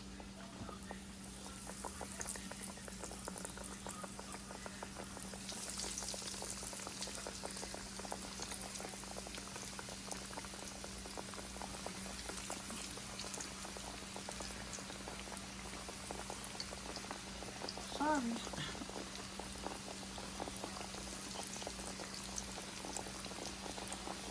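Ravioli fry in oil in a frying pan, giving a steady, close bubbling sizzle that runs unbroken throughout, with a low constant hum underneath.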